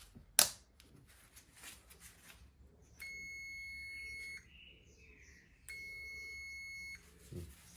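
A multimeter's continuity buzzer sounds during a glow plug test on a 1.3 HDI Peugeot Bipper diesel engine: two steady, high-pitched beeps of about a second and a half each, preceded by a sharp clack of the probes.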